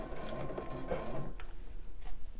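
Domestic sewing machine stitching along bra elastic, a short burst of mechanical needle clatter that stops partway, followed by quieter handling clicks as the fabric is swiveled.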